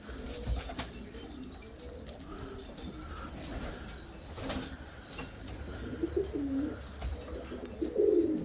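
Filo Elvan pigeons cooing in a loft, soft low coos recurring through the clip with a brief flutter of wings, close and moderately quiet over a steady background hiss.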